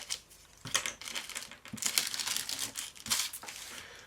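A sealed plastic bag from a Hercules Nike MIM-14 model kit being cut open with a knife, giving close, irregular crinkling and tearing rustles in several bursts, with no voices.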